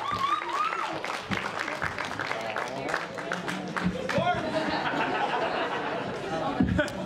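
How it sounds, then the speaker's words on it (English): A studio audience on a comedy show claps for a correspondent's arrival, steady applause mixed with chatter and a few chuckles, voices talking over it throughout. "Round of applause."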